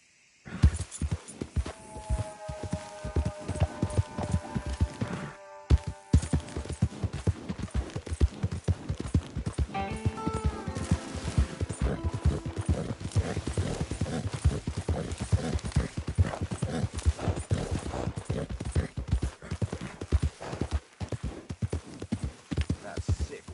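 Horse hooves gallop in a steady, loud clip-clop rhythm through a PS4 video game, with a brief whinny and game music layered over the pounding beat.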